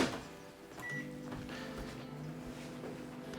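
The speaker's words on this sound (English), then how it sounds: "Put it in the microwave for just a few seconds" A steady, quiet electric hum drones on without change from a microwave oven running in a quiet room.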